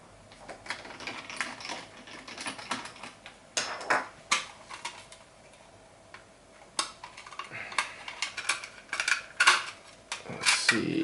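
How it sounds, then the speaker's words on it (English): A small screwdriver undoes screws during the teardown of an FM 15000 control unit, giving soft, irregular metallic clicks, ticks and faint scraping up close in a quiet room, with no voices. "I'm just undoing a couple of screws"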